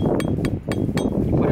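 A shovel used as a makeshift hammer knocks a stick into a tapping hole in a birch tree, giving four sharp metallic clinks at a steady rhythm over a noisy outdoor background.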